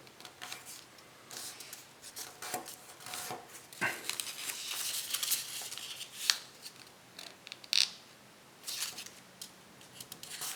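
Paper being creased and folded by hand for a butterfly kusudama origami flower, close crisp rustles and sharp crinkling taps coming in irregular bursts, with no voices.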